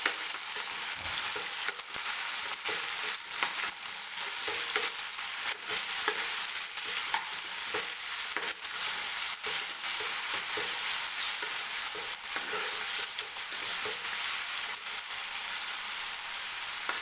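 Two chopped tomatoes soften in hot oil for dal tadka, giving a continuous even sizzle up close with irregular scraping stirs throughout, no voices.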